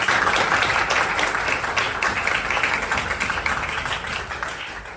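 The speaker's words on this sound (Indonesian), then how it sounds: "Tepuk tangan untuk kalian" Students applaud in a classroom, a dense sustained round of clapping heard close and fairly loud, tapering only slightly over several seconds with no talk over it.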